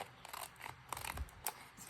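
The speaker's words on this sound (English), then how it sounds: "So I use the ripple scissors for this." Ripple-edged decorative scissors snipping paper for a travel journal collage, a quick series of crisp, close cutting clicks and rasps in an uneven rhythm, quiet overall.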